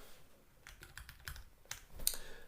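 Rapid keyboard typing, a short burst of irregular clicks and key taps, fairly close but quiet, with no speech over it.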